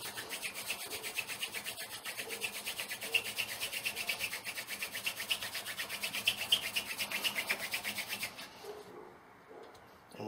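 Fast, rhythmic rubbing of a reed hand drill spindle on wood for friction fire, a steady back-and-forth friction whir that continues for several seconds and then stops abruptly.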